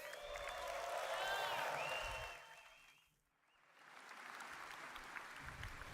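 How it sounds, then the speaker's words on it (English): An audience at a convention event applauds after a hairstyle presentation, clapping under a lingering tone, dipping almost to silence midway, then resuming at a steady moderate level. "Another round of applause for Andre"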